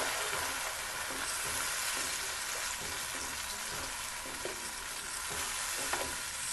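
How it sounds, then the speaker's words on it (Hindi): Ground tomatoes being stirred into dal mash with a spoon, a steady broadband sizzle of frying with soft scraping strokes and a few small clinks, close and continuous with no voices. "इसको थोड़ा सा हम चमचे से अच्छी तरीके से मिक्स करेंगे।"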